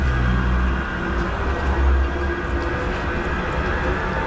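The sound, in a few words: Manchester Metrolink tram departing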